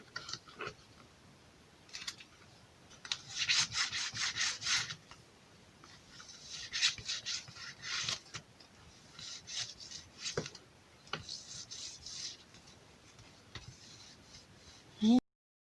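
Paper is rubbed and pressed firmly by hand to set glued folds on a handmade Christmas album, with soft scraping strokes in irregular bursts, close and quiet, ending with a sharp tap.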